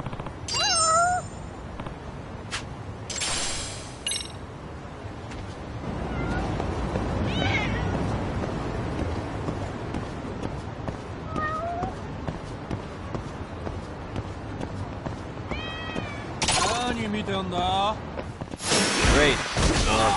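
Meows from a cat in the video game Lost Judgment, several short cries spread across the clip over a busy ambient game background, with a cluster of louder, rising meows and bursts of noise near the end.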